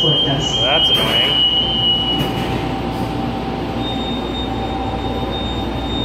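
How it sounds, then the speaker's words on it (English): Miami Airport E-Train pulling away from the station, a steady low rumble of the airport people mover with a brief high squeal early on and a faint tone later, continuous and close. "Train is departing."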